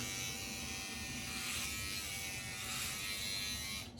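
Continuous close buzzing of a Remington Omniblade HG4000 electric shaver working over a head, slightly rising and falling as it moves across the scalp, then cutting off right at the end.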